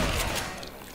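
Gunfire in the video game Left 4 Dead 2, a quick burst of a couple of sharp shots within a second, fairly faint and mixed with game ambience.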